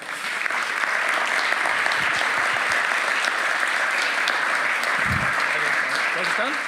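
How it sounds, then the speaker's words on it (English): A seated audience gives warm applause to two honored guests standing up, a continuous wash of many hands clapping at an even level from start to finish. "maybe just give them a little applause as well"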